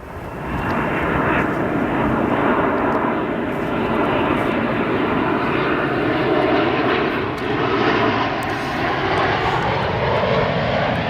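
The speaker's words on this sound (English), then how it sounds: "This arrival, United Airlines, Boeing 787-10 Dreamliner." A United Airlines Boeing 787-10 Dreamliner arriving at Chicago O'Hare produces a broad, loud engine roar, steady and close for the whole stretch, with a slowly shifting pitch as it passes.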